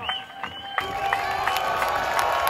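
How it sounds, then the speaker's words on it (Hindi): A crowd at a rally for Imran Khan, chairman of PTI, erupts into cheers and applause as he is welcomed onto the stage, starting suddenly and holding at a steady roar with shrill voices rising above it. "आप सबके पुरजोर इस्तकबाल में हाथ उठाकर तालियों की गूंज में इस्तकबाल कीजिएगा"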